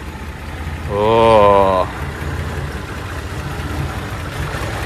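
A Nissan Skyline Kenmeri fitted with Weber carburetors idles with a steady low rumble throughout, and a man's brief exclamation briefly rises over the engine.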